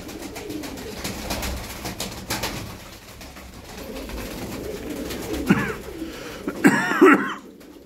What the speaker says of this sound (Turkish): 12 tane kuş.